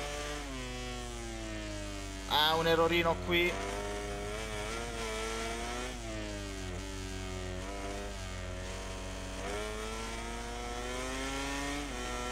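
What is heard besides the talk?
Honda motorcycle engine roaring in video game MotoGP 17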